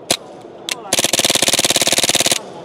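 Airsoft AR rifle on a VFC system taking 5.56 magazines, fired twice in single shots and then in a long, very fast full-auto burst of sharp, evenly spaced cracks, close and loud.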